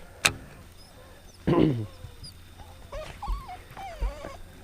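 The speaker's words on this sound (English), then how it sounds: "And the dog's already freaking out." A mini husky by the water at a rocky bank gives a sharp yip, then a loud excited whining howl, followed by several shorter whimpering cries, close by with light outdoor background.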